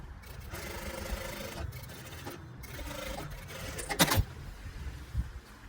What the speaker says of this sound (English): Sew down your bias